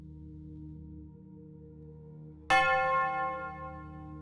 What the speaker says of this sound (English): I heard the bell again.